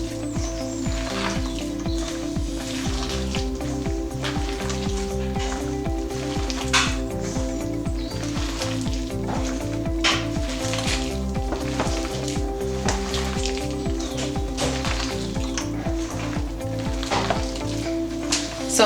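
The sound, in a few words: mixing onion bhaji batter by hand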